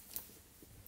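Scissors snipping through tape during gift box crafting, one sharp faint cut near the start followed by a few soft rustles, close and quiet with no talk.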